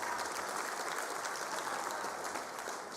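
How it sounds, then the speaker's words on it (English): Audience applause at a 2022 matric results announcement by the Department of Education, a steady, even patter of many hands, fairly soft and slightly distant, sustained without talk. "Give DG a very big hand of applause, please"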